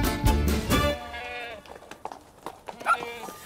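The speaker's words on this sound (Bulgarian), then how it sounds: "Ето ги козите, Андре." Goats in a Bulgarian village, Zheravna, give loud wavering bleats close by, several overlapping calls at first, then sparser cries, with people talking nearby.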